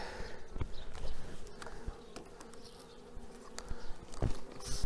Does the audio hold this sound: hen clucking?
no